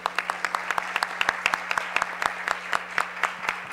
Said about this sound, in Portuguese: Então podem aplaudir.